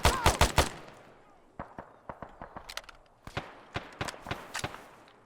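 Gunfire in the Arma 3 combat game opens with a rapid close burst, then scattered single shots and short volleys crack at varying distances.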